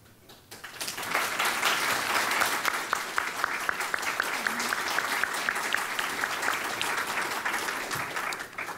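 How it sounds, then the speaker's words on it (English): Audience applause at an anniversary symposium, a dense burst of clapping that swells quickly after a brief lull and stays loud and steady for several seconds before easing slightly. "if we could just get one more round of applause, I'd really appreciate it"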